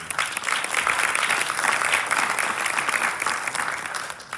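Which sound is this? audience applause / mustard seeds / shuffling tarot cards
audience applause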